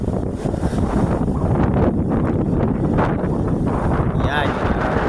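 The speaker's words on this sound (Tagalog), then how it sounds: "Medyo malamig nyo, malakas ang hangin." Strong wind batters the microphone along the coast at Dalahican, Cavite City, a constant loud rushing roar throughout, with voices faintly under it.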